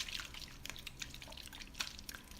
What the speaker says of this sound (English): I add a tablespoon of cornstarch to the water